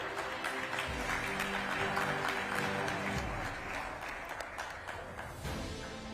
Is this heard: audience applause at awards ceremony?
yes